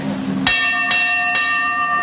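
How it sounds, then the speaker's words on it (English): A bell clangs three times in quick succession, bright and ringing like a fire alarm, each strike left to sustain, after a brief murmur of voices. "Sally, shall I ring that bell?"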